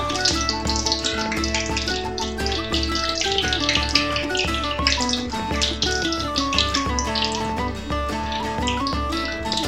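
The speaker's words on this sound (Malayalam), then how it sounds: "ഇനി നമുക്ക് ബാക്കിയുള്ള നഗറ്റ്സും കൂടെ ഫ്രൈ ചെയ്തെടുക്കണം" Chicken nuggets frying in hot oil over a low-to-medium flame give a steady, continuous sizzle and crackle beneath background music.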